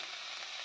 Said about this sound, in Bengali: সেই তেলের মধ্যেই আমি দিয়ে দিলাম রসুন, পেঁয়াজ আর কাঁচা লঙ্কা।